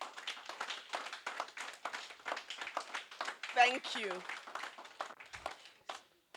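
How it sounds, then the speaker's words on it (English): An audience claps in a loose, steady patter of applause at a corporate sustainability pitch event, running under a speaker's voice, with a few louder hand claps standing out before it tapers off near the end. "So another round of applause for them."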